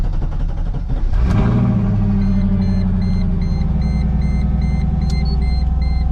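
A Mercedes C55 AMG engine, left sitting for a while, cranks briefly on a new lightweight battery, then catches and settles into a steady, loud idle rumble that continues to the end.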